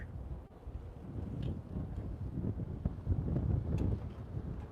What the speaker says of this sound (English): Yeah, it's really windy today.